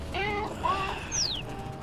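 Birds coo softly in the video game Little Kitty Big City, brief warbling calls at moderate volume over a steady game-ambience background.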